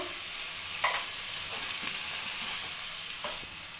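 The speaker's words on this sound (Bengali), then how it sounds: "মশলাটা একটু ভালোভাবে নাড়িয়ে নেব।" Spice paste sizzling in a pan on a low gas flame while being stirred, a steady soft frying hiss broken by a few scraping strokes, no voices.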